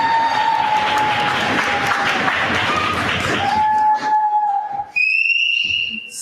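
Loud crowd applause with several sharp whistles cutting through, the clapping fading out near the end as a long shrill whistle rings.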